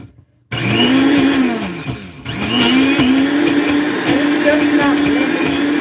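A kitchen blender whirs loudly through chilies and onions for a ham glaze, starting abruptly after a short silence, dipping briefly, then spinning up again to a steady drone.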